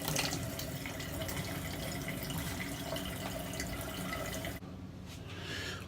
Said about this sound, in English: I'm going to get rinsed off and we'll get right into pass number 2